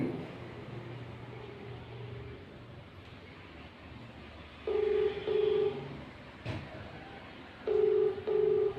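A phone being dialed for a call gives two short clusters of keypad tones over a low background rumble, with a brief thump between them.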